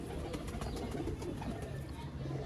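Pair of rare Sialkoti A-class breeder quails calling steadily in a pen, soft repeated cooing notes close by over a constant noisy background, with people talking faintly.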